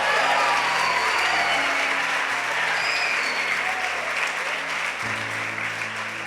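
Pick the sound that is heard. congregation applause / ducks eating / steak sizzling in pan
congregation applause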